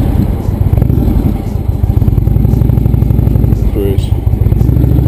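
An Indian Dark Horse motorcycle engine rumbling loud and close, a deep steady throbbing idle with a clattering mechanical texture throughout.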